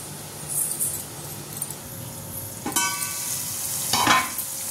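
Onion and tomato fry in a pan while a spoon stirs and scrapes them, a steady soft sizzle with occasional louder scraping strokes, close and without talk.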